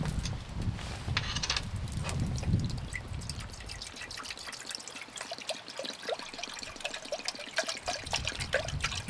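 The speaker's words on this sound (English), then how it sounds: "Let's put some water in it." Water is poured into a Tefal pot outdoors amid hard rain and wind, first a heavy rushing pour, then a lighter trickle and a stream of close drips that end in a brief splash.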